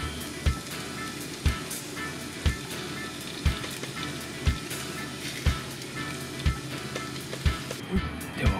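Mackerel sizzles steadily on a grill, a dense continuous crackle punctuated by regular soft thumps about once a second, close and alone.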